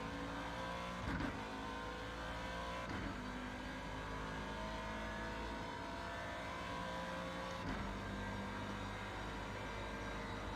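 A race car engine in the iRacing sim during the Daytona 24-hour endurance race, a loud, steady high-revving drone held throughout with a few brief bumps in pitch.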